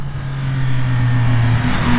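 A Triumph Speed Triple 1200 RS on a race track holds a loud, steady engine drone, its pitch shifting briefly near the end as it changes gear.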